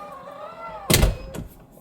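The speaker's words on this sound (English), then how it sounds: "You can always hit the button here, and the door closes." A Tesla Model Y car door closes automatically at the press of a button, ending in a single solid, close thunk followed by a softer settling thud.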